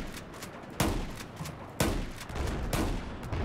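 Gunfire in the video game Battlefield 4, with sharp loud shots cracking at uneven intervals over a constant rumbling battlefield din, and no voices.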